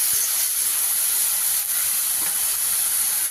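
Onions frying with salt in a pan on high heat, a continuous even hiss of sizzling oil, steady and close, with a couple of faint clicks.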